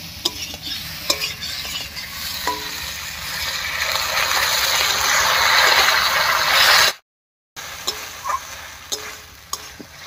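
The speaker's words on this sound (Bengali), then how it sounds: "এবারে মশলা বাটা জল দিয়ে কষিয়ে নেব।" Ground spice paste with water sizzles and fries in a pan as a spatula scrapes and stirs, a steady close hiss that rises, cuts off briefly, then returns with sharp scraping clicks.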